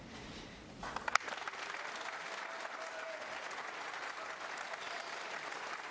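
A capacity snooker crowd at the Barbican during the UK Championship breaks into loud, sustained applause after a quiet moment and a sharp clack. The clapping swells and holds steady to the end under faint commentary.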